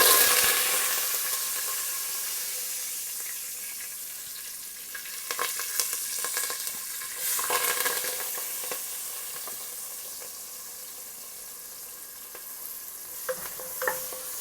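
Curry leaves and turmeric sizzle in hot oil for a Telangana-style fish curry, a steady close hiss with a few louder crackling bursts as the pan is stirred.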